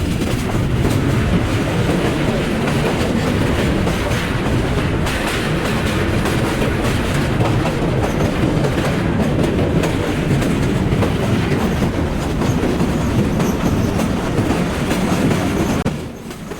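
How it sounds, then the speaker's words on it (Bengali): The Parabat Express rolls onto the Bhairab Bazar railway bridge with a loud, continuous rumble and rattling wheel clatter that holds steady and close throughout, then eases slightly at the very end. "ট্রেন প্রবেশ করছে ভৈরববাজার রেলওয়ে ব্রিজে"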